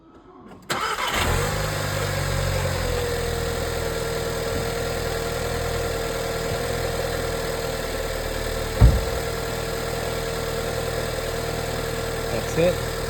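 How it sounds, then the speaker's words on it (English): 2014 Volkswagen Jetta engine cold-starting with a sudden crank and catch, then settling into a steady, even idle hum with a faint whine, close by, with a brief knock midway and a voice speaking. "This is gonna be a cold start."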